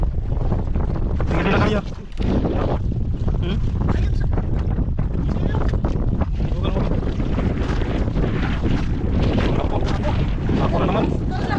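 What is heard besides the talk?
strong wind on a fishing boat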